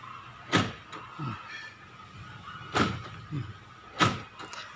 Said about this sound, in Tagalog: Pag pinindot mo ito, maglalak na po yan lahat